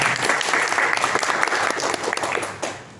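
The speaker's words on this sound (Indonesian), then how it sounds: "Tepuk tangan buat di Sperindak ya." An audience at a workshop claps loudly and steadily, a dense burst of applause from a roomful of people that tapers off near the end, with no speech over it.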